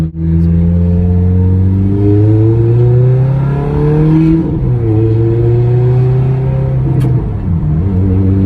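A Ferrari 430 engine while parallel parking in West Hollywood, a loud close rumbling drone that revs up and down through several gentle pitch rises and drops, with a short click near the end.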